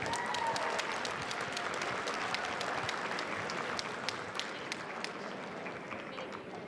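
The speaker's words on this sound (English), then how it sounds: "A warm round of applause right now for Congresswoman Lauren Underwood." An audience at a Lunar New Year program gives a congresswoman a warm round of applause, dense sustained clapping that gradually thins out.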